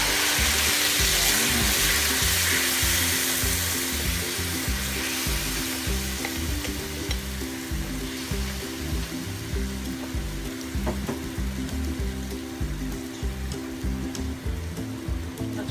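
Marinated beef steak sauce sizzles loudly in a hot pan for Filipino beef steak, a dense steady frying hiss that eases slightly after the first seconds, with no voices.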